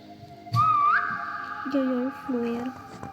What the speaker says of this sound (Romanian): Eu fluier.